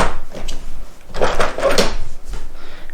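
Drawer of a DEAL Craftsman 216-piece Versastack socket set, a snug 1/4 inch drawer, sliding and clunking with a few short scraping bursts close up and alone.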